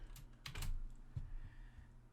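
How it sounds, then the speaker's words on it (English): A few soft keystrokes on a computer keyboard, pressing Shift and J during CAD modelling work, heard as brief close taps over a low background hum. "Now let's do Shift J on our keyboard"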